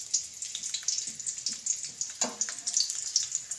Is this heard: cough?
no